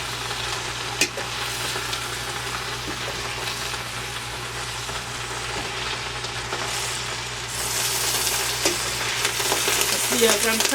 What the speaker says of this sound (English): As I'm turning this, turning the collards around like this